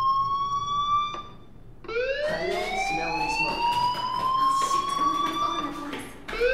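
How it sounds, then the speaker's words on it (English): School fire alarm in the Life is Strange video game wails in a loud rising electronic tone that repeats, continuous and close, with other sounds underneath. "do you hear that fire alarm? That means you should be outside."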